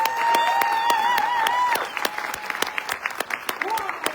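Applause from an audience at a Scentsy company tour event in Montréal, clapping blended with a held tone and light voices, strong at first and then thinning into sparser claps.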